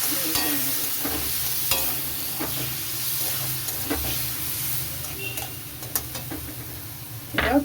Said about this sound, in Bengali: টমেটো বাটাটা দিয়ে আবার